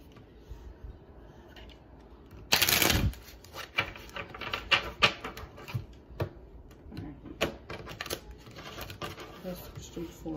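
Cards riffle in a quick burst, followed by scattered light clicks and taps as the deck is handled up close.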